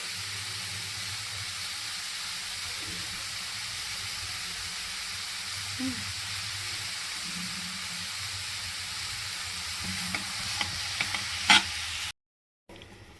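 Carrots being stir-fried for carrot curry, with a steady hiss of frying in the pan and occasional scraping and clinks of a spoon mixing, continuous and close, no talking.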